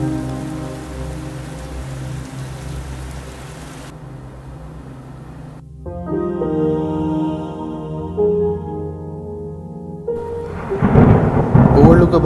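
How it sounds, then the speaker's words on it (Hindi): Rain pours onto a vehicle on the road to Abha in a thunderstorm, a dense drumming roar with low thunder rumbling beneath it. The sound shifts as the car moves, and a heavier downpour swells near the end. "निकले तो कुछ आवारा बादल हमारा इंतज़ार कर रहे थे हम पे बरसने के लिए।"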